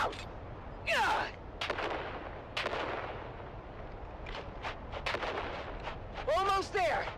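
Grenade explosions in the Dune Awakening video game: several sharp booming bursts scattered over a few seconds, loud and close, mixed with shouting voices and whizzing game effects.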